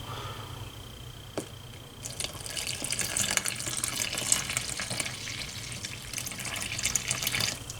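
Warm water is poured into flour for no-knead bread dough, a close splashing trickle that starts softly and swells into a steady stream for several seconds, with no talk.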